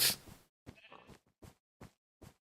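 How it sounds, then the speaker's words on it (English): A Minecraft sheep bleating repeatedly, a loud first bleat followed by four or five shorter, quieter bleats at uneven intervals with silence between them. "Can that sheep shut up?"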